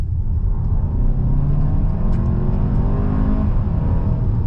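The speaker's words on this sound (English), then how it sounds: "I'll just slow down for you and show you the kind of kick down. 40 kilometers an hour, full throttle." Hyundai Santa Fe 2.5T 2WD under full-throttle kick-down from 40 km/h: a loud, steady engine roar with a rising pitch as it pulls hard, heard from inside the cabin with no talk.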